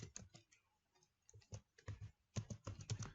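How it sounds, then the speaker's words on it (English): Fast, light keystrokes on a computer keyboard while typing a word into an outline document, a short burst of close, crisp clicks with uneven rhythm. "So I'm going to type introduction"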